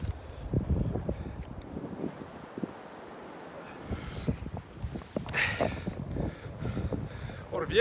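Wind gusting across an exposed hilltop at Rivington Pike, buffeting the microphone in rough rumbling bursts that rise and fall, with brief voices nearby.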